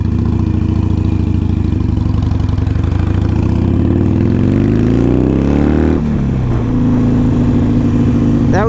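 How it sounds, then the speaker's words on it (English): Sidecar motorcycle engine running up close, a steady idle that rises into a swelling rev, drops sharply, then settles back to a lumpy idle; loud and alone with no talking. "Stopped and saw Dan's sidecar bike."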